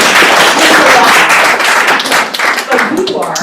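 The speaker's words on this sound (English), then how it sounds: "So we're going to all give a round of applause for Larry" A summit audience claps for a clinical trial participant, a dense burst of loud, close applause with speech running over it throughout.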